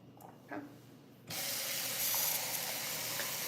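At a kitchen sink, a faucet switches on after a quiet moment with a small clink, then water runs in a continuous close hiss over rice being rinsed in a pot.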